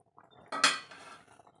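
A metal lid is lifted off a pot of boiling mullet fish curry with one short, close clank and a brief ringing rattle, then near quiet.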